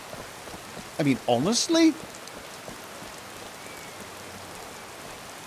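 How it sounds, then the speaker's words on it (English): Steady rain falling in the video game Skyrim, a soft even patter running throughout, with someone briefly talking over it near the start. "Let's get out of the rain."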